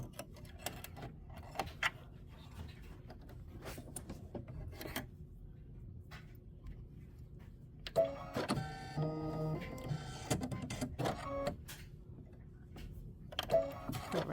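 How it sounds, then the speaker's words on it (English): A home embroidery sewing machine stitches out a Kimberbell mini quilt design, its needle chattering in fast, even bursts between about 8 and 14 seconds, after a quieter stretch of low hum and faint ticking. "let it go ahead and stitch out all those seeds"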